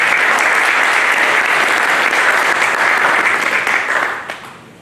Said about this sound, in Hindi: डॉक्टर साहब के लिए एक बार जोरदार तालियां बजाएं